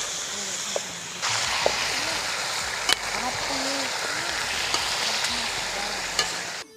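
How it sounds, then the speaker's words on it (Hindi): Chicken frying in a karahi over high heat gives a steady, close hiss of sizzling oil, with a few scrapes and clinks of stirring and a soft voice speaking at times. "चिकन का कलर चेंज होने तक हम इसको फ्राई करेंगे।"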